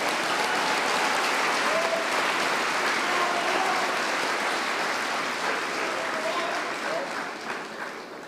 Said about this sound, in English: Can we have one more round of applause for their commitment to serving in our military?